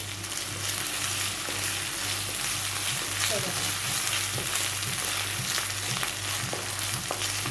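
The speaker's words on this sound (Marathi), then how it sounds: "लसणीचा कच्चा वास जाईपर्यंत आपल्याला ही परतून घ्यायचं आहे." Ginger-garlic paste and onion sauté in a pan for a spicy prawn masala, giving a steady, close sizzle with soft stirring scrapes and a low background hum throughout.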